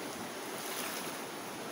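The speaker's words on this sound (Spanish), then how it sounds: "este video está relacionado con el río Huascorán" The Goascorán river on the Honduras–El Salvador border flowing after a storm and hurricane, a steady, dense rushing roar of water with wind buffeting, constant and fairly loud.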